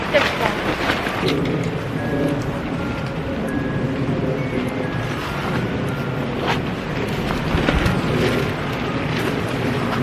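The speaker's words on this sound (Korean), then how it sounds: "바람 엄청 심하긴 하네요" Strong gusty wind buffets the microphone at a campsite, a continuous low rumbling rush with irregular flapping bursts, while a person talks intermittently through it.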